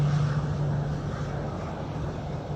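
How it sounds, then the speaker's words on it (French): A Super Tucano turboprop flying a four-lap circuit at 1000 feet produces a steady, loud engine drone with a constant low hum and airflow rush, no voices. "le Super Tucano s'élance pour un circuit de 4 tours à 1000 pieds"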